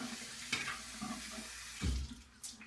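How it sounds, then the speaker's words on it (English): Running tap water rinses a razor, a faint steady hiss of flowing water broken by a few splashes and clunks as the blade is held under the stream. "just rinse off the little whatever is left on it"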